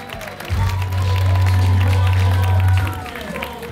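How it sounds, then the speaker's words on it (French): Studio audience applauding both teams at the close of a Bol d'or improv match, a loud sustained burst of clapping and crowd noise with a strong low rumble, lasting a few seconds before fading. "une bonne main d'applaudissement aux 2 équipes"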